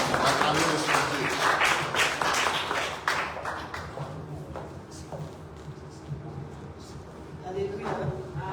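A church congregation applauds and claps during a French-language worship service. The clapping is dense at first, then thins out, and voices of worshippers carry through it.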